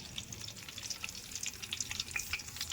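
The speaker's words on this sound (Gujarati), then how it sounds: "જો આ રીતે રીંગણા નાખી દેવાના તેલમાં" Brinjal stalk pieces frying in hot oil for a village-style shaak, crackling and spitting steadily up close with bright popping bursts scattered throughout, no voices.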